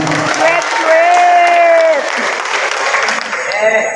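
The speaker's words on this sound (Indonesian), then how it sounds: "Tepuk tangan untuk kita semuanya." An audience of association members at an agricultural officers' election meeting in Banjar applauds loudly, the dense clapping overlapped by a voice speaking through a loudspeaker.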